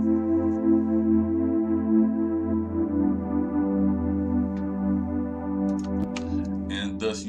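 Layered string chords from an FL Studio preset, widened with the Fruity Stereo Enhancer effect, sustain loud and smooth as a slow two-chord trap soul progression, with a few brief high clicks near the end.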